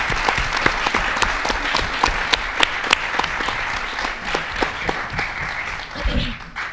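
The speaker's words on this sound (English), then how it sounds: "Let's have a big round of applause for all of our amazing competitors." Audience applause for student competitors at a Texas middle school quiz show, a steady, dense clapping that holds for several seconds, with a few louder individual claps on top, then thins out toward the end.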